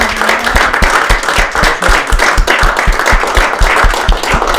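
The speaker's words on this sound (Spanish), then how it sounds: "Creo que se merece un gran aplauso por esa visión." A lecture audience at the Observatorio Cervantes at Harvard breaks into steady, dense applause, many hands clapping loudly and evenly throughout with no voices over it.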